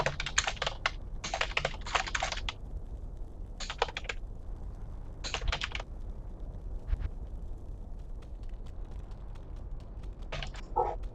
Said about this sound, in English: Oh, typing is hard.